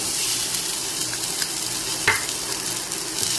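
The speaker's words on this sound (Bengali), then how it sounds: "এর মধ্যে আমি দিয়ে দিচ্ছি পেঁয়াজ কুচি" Chopped onion frying in hot oil over tempered spices for masala bhindi, a loud, steady, close sizzle with a few light stirring knocks and no voices.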